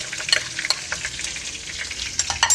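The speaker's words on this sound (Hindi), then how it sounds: "ये देखिए, हम पहले इसका तड़का लगाएंगे।" Steady crackling sizzle of spices, including cumin, frying in hot oil for tempering a whole masoor dal dish, with small pops and spits throughout, close and moderately loud.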